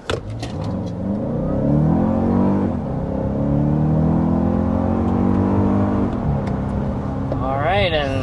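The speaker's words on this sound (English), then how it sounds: "we're up to 60 miles per hour in the Grand Highlander" A Toyota Grand Highlander Hybrid Max with a 362-horsepower hybrid powertrain accelerating hard to 60 mph, a loud sustained engine drone rising in pitch across the run, heard from inside the cabin with a short pause midway.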